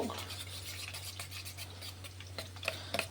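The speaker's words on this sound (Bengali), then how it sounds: "চিলি সস, টমেটো সস আর সয়া সস, এই তিনটেকে এবার একটু নেড়ে ঘেটে নেব" Chili sauce, tomato sauce and soy sauce stirred together in a bowl: quiet, irregular clicks and scrapes of a utensil over a steady low hum, with sharper taps near the end.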